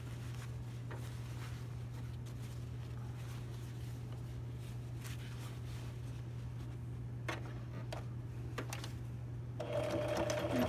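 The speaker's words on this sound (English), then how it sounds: "I'm just going to stitch it from the top again." Sewing machine stitching the fly of a pair of pants from the top, a steady continuous motor hum running throughout with faint clicks, slightly louder toward the end.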